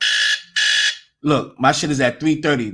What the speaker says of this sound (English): That was my alarm because I had to get up to go to work at 5 in the morning.